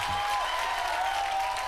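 A brief burst of audience clapping on a comedy show stage, dense and fairly loud for under two seconds, with a faint tone ringing underneath.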